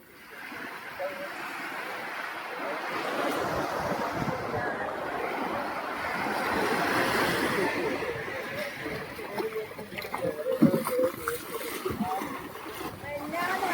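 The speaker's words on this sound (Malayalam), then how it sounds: "തോണി ഇങ്ങനെ വരുന്നുണ്ട്, രണ്ടെണ്ണം അവിടെ ഉണ്ട്" Boats move on the open sea off Kappad beach in Kozhikode, with waves washing in and gusty wind noise buffeting the microphone; the wash swells and ebbs steadily throughout, and voices are faintly present.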